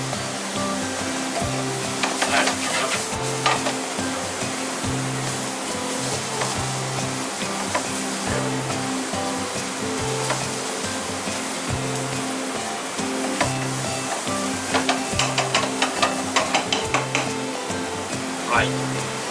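Onions and garlic frying in a pan, a steady broadband sizzle running continuously with a faint, low, regular hum beneath it and brief crackling bursts, no one talking.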